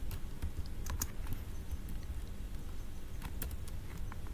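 Keys clatter steadily on a computer keyboard as an nmap stealth-scan command is typed during a computer security exercise, a run of quick close clicks over a low room hum.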